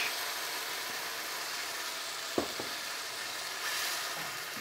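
Water poured into a hot wok with chicken and pineapple sets off a loud, steady hiss and sizzle, broken by a few clanks of a utensil against the pan.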